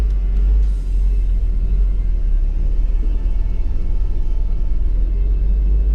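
A Toyota Land Cruiser FJ60 pulls away on the road, its engine giving a steady, loud low rumble that hums on continuously with no talking.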